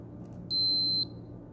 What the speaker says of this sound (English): Just listen to the beep of the multimeter.